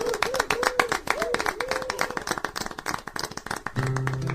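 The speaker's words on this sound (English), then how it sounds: "let's give a round of applause for Ched Tide" Clapping and cheering from an audience greeting a rock star performer, with dense hand claps and whoops over about four seconds before a sustained tone takes over at the end.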